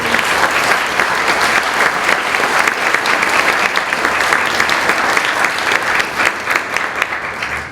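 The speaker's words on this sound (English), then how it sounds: "we give them a round of applause" A gala audience honoring local leaders and youth claps in a sustained, dense round of applause, loud and steady from start to finish with no breaks.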